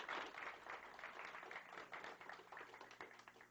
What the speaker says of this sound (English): let's give Dr. Hernandez a round of applause